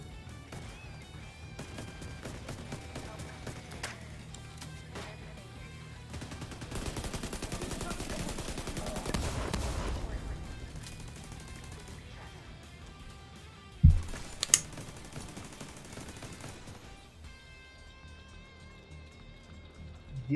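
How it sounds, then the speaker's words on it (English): Gunfire in a shooter video game crackles in rapid bursts and single shots, with one sharp loud crack near the end, all fairly faint under occasional background talk. "someone shooting from the right"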